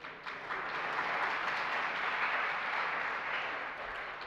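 An audience at a Jain religious sermon applauds in a steady, even wash of clapping that swells quickly and holds for about four seconds, with no talking over it.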